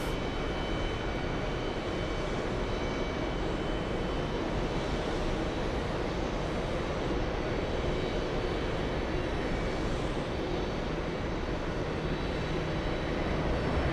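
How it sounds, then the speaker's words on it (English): Korean Air Boeing 747 taking off, a loud, steady, broadband jet roar that stays constant and fills the whole stretch with no talking. "We have the Korean 7-4 taking off."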